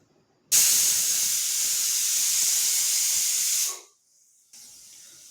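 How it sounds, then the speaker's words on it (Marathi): A pressure cooker cooking Nilanga rice lets out a single loud, steady steam whistle hiss lasting about three seconds. It then fades out, and a fainter hiss follows after a brief silence. "इकडे आपली एक शिट्टी काढून झाले, तर आपण कुकर खाली घेऊयात."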